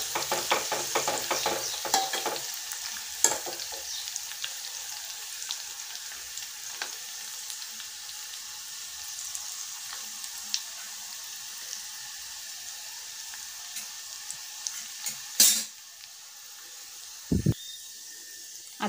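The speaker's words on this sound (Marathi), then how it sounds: "आता आपल्याला हा लसूण सोनेरी रंगाचा होईपर्यंत परतून घ्यायचा आहे." Crushed garlic and curry leaves fry in hot oil in a pan, a soft steady sizzle broken by occasional stirring clatters and a few sharp utensil knocks toward the end.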